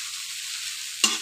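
Poha pulao fries in a pan with a steady, even sizzle, broken near the end by one sharp scrape or clink as it is stirred.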